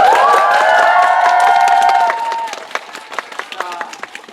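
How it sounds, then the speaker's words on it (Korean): Audience applause mixed with high, sustained cheers and squeals at a musical's stage greeting after an actor's final performance; the screams fade after about two seconds, leaving scattered clapping that tapers off. "우리 다시 한번 큰 박수 좀 부탁드리겠습니다"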